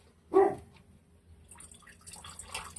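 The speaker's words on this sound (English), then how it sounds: "Dogs are barking at something" A single short dog bark up close, followed by scattered faint clatter and rustling in an otherwise quiet room.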